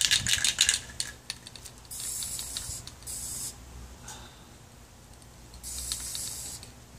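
Hissing bursts from a spray paint can, sprayed in short uneven blasts with pauses between them, loud and close, alongside light clicking and tapping during cabinet restoration work.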